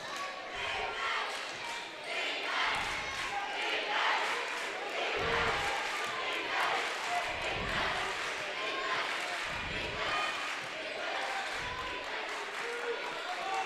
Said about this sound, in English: the Angola crowd showing their appreciation for the defense being played by the Hornets